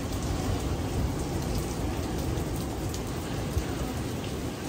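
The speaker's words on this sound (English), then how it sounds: "I've never like sat here and watched a storm like this." Heavy thunderstorm rain pours down steadily at Carolina Beach, a dense, loud, continuous hiss of rain on surfaces with no pauses and no talking.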